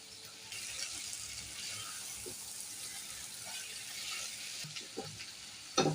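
Shrimp and five mixed vegetables fry quietly in a pan with a soft, steady sizzle, a few light stirring clicks, and one sharper knock near the end.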